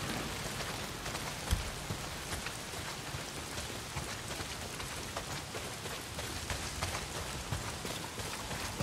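Heavy rain in Days Gone, a dense continuous hiss of drops on surfaces, close and even, with a couple of brief louder spatters and no voices.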